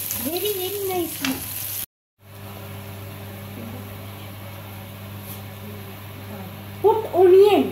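Garlic and ginger roast in a pan for chicken curry with a soft, steady sizzle beneath a low hum, broken by a short silent gap, while a voice talks at the start and end.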